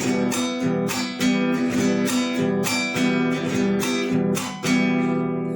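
Acoustic guitar strums a lively, steady chamamé rhythm with sharp downstrokes and thumb accents up and down, played close and alone.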